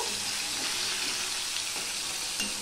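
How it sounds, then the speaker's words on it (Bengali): Hilsa fish pieces frying lightly in hot oil, a dense, even sizzle close by with a few faint shifts of the pan, no voices. "এবার মাছগুলো আমি হালকা করে ভেজে নেব।"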